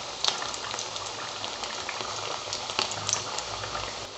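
Fish fried golden brown sputter in hot oil, a continuous close crackle and bubbling with scattered sharp pops, some louder spits standing out above the steady sizzle, and no voices.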